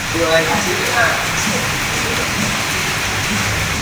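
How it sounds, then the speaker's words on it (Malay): Steady heavy rain forms a dense, even wash of sound throughout, with a voice briefly audible at the start over the downpour. "Story yang hujan, tiba-tiba hujan."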